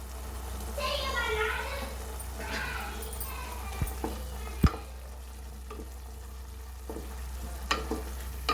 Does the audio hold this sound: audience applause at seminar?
no